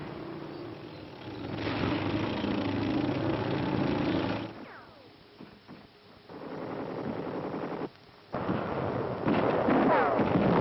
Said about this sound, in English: Tanks pace the advance of an infantry division.